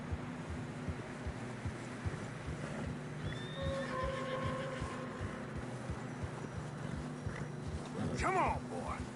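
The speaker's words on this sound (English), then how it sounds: "Horses are getting tired." Horses in the video game Red Dead Redemption 2 trudge through snow with a steady rhythmic clopping. A loud whinny comes near the end, and a voice speaks briefly under a faint wind.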